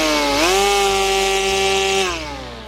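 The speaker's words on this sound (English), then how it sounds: "Unboxing and putting together the Ego 15-inch string trimmer." An EGO 15-inch cordless string trimmer spins up to a loud, steady electric whine that holds its pitch, then winds down briefly at the end.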